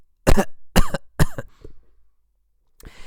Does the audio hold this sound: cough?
yes